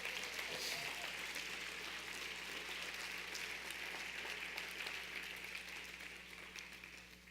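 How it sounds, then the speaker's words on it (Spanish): A church congregation applauds, broad steady clapping from many hands that fills the room at a moderate level, slowly easing toward the end over a faint low hum. "Aplaude fuerte a Jesús"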